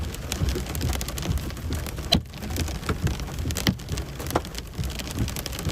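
Hail pelting down in a tornado storm near Dalhart, a dense, steady rattling roar with scattered sharper impacts standing out throughout.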